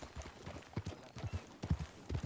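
Horse hooves clip-clopping at a steady trot in Red Dead Redemption 2, fairly close and moderately loud, the rhythmic beats clear over a faint in-game background.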